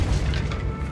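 A Repulso spell blast in Hogwarts Legacy lands as a brief, heavy booming thump with a deep rumbling tail, loud and close.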